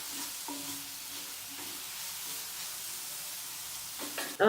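Onions sautéed with salt sizzle and hiss steadily in a pan, a faint continuous frying sound with a few soft scrapes, ending in a brief louder clatter.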